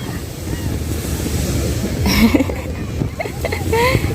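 Wind blowing hard at a Fuerteventura beach, a continuous rumbling gust buffeting the microphone with surf beneath, while someone talks over it.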